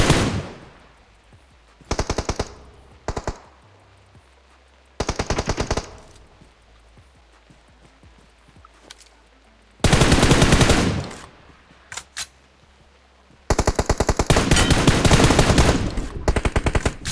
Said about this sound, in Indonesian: Dia nembak. Itu hit parah. Nembakin gua.